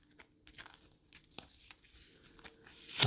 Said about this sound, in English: Let's see if I can get this tape off of here